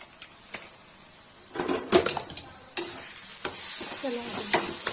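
Chicken liver masala being stirred in a pan, with a spoon scraping and sizzling against the metal in irregular strokes over a steady frying hiss, close and fairly loud.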